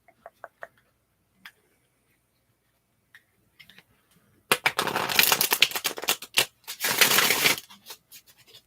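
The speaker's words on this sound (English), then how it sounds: "shuffle your cards just a little bit more." A deck of cards being shuffled close up in a quiet, intimate setting: a few soft isolated taps first, then two bursts of crisp riffling and flicking, with small clicks trailing off afterward.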